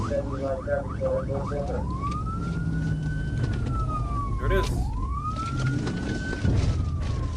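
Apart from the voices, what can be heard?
ambulance siren during police chase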